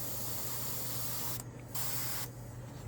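A siphon-feed airbrush sprays paint with a steady hiss, stopping briefly twice before resuming, close and fairly soft with no talking.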